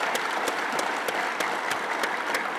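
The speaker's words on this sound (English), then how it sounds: "let's give you a big applause for the institution." An audience in Bangladesh gives a brief round of applause for an institution, with steady, even clapping from a crowd at moderate level and no voices over it.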